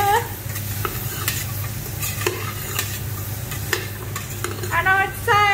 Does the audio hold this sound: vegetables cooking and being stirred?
yes